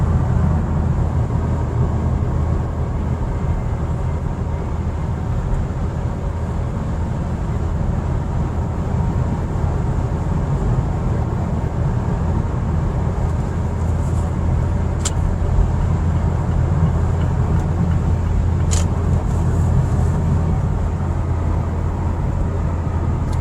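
Steady, loud road and engine roar inside a 2021 Mazda CX-3 all-wheel drive cruising at high speed on a highway while passing another car, a continuous rumble with no talk.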